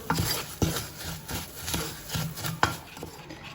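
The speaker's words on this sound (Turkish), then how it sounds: "Bir 4-5 dakikadır kavuruyorum." Flour is roasted in butter and stirred in a pot for soup, producing rhythmic scraping strokes of a utensil against the pot bottom, about one every half second, close and fairly loud.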